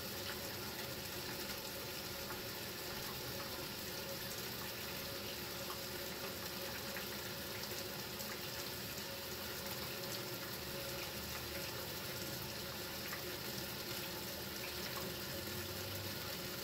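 Water pours steadily into the tub of a 1965 Lady Kenmore washing machine during a wash of work pants, a faint continuous rushing hiss with no talk.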